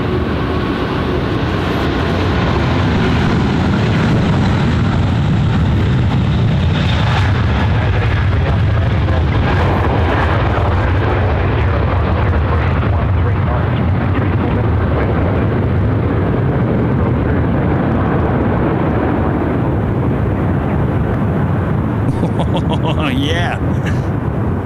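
An Emirates Airbus A380 jet roars loudly through takeoff at Sydney Airport, a sustained heavy rumble and whine that swells and slowly fades, with people talking over it.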